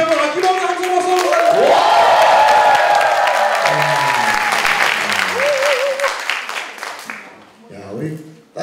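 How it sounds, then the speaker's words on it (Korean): A Korean TV studio audience bursts into loud cheering and applause for guest Kim Eun-mi, CEO Suite head. The dense clapping and shouts stay strong, then thin out and fade near the end as talk resumes. "다시 한번 아낌없는 함성 박수!"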